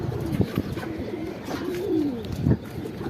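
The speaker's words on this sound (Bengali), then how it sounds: "আমাদের পাশে একটা অতিথি কবুতর আসছিল" A visiting racing pigeon coos nearby in a home setting, giving several soft, low throaty coos in a rolling rhythm against light background noise.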